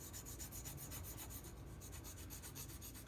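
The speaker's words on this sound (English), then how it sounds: "So just file it like that." A file rasps across a plastic part from a Tamiya 1/35 M21 Half Track model kit in rapid even strokes, close and quiet, with no talking.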